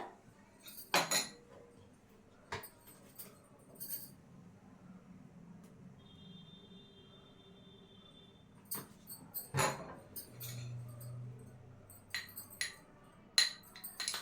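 A spoon stirs honey into ground powder in a bowl, giving a few faint, scattered clinks and soft scrapes against the bowl in an otherwise quiet room, with no talking.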